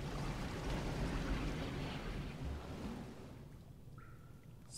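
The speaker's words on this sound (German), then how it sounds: "So, wir lassen das Wasser hier ab." Water draining away in the horror game Penumbra: Black Plague, a steady broad rushing wash that fills the sound throughout, gradually thinning and quieting toward the end, with no voices over it.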